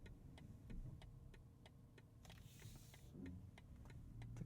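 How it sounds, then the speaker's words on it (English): A BMW XM's turn signal ticks steadily inside the cabin, a soft regular series of clicks over low road and engine hum, with a brief hiss in the middle. "Listening now to the turn signal."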